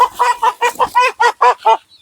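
Native country chickens on a farm cluck in a steady series of about nine short, close calls, each clearly separated, with no other sounds around them.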